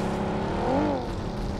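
Engine drone of a vehicle driven in a battle-royale shooter game, a steady mid-pitched hum with a brief rising rev in the middle, continuous and fairly loud with no talking.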